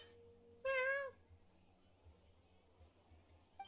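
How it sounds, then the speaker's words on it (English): Several cats meow at once in a single loud, harmonic burst lasting about half a second, standing out over a low background hum; quieter clicks and another brief cry follow near the end. "Your cats seem pretty worked up."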